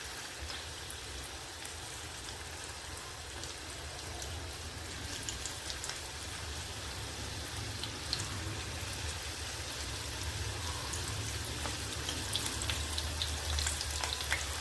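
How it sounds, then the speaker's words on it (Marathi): Okra frying in hot oil over a flame set a little above medium, a continuous crackling sizzle like rain that grows slightly louder over time, heard alone and close. "आता तेल आपलं चांगलं गरम झालं आहे, तर भेंडी आपल्याला तेलामध्ये सोडून घ्यायची आहेत"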